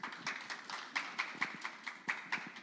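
Steady rhythmic clapping from an audience at a youth policy forum applauds a first-year high school student team, with even claps continuing throughout at moderate volume.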